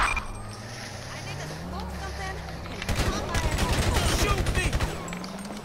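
Rapid gunfire in GTA, with a burst of repeated shots in the latter half over a background of vehicle and ambient game noise; no speech.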